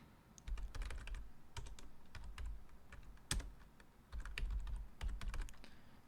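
Typing on a computer keyboard while entering a Python command: quiet, close, irregular key clicks in quick clusters with a few heavier thumps of the space or enter key, in a hushed room.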